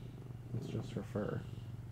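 A contented house cat purrs with a low, steady hum close by, half buried under people talking over it.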